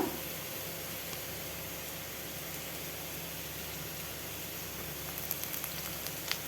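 Grated ginger fries in oil with garlic and onion for a dal, giving a constant hissing sizzle like light rain, even and close, with a few faint crackles near the end.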